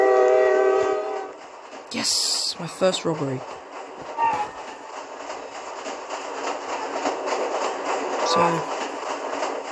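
A train rolls along in the Roblox game Jailbreak, a horn blast opening over steady rumbling and clacking wheels, with someone talking over the passing train.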